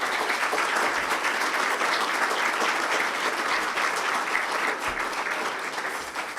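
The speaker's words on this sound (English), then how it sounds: "a round of applause for our host" Audience applause fills a hall at a Chamber of Commerce and Industry awards gala, steady and dense throughout, tapering slightly at the end.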